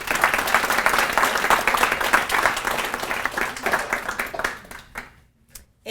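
Audience applause at a Ferguson forum panel, loud sustained clapping that gradually thins out and fades near the end, leaving a few scattered claps.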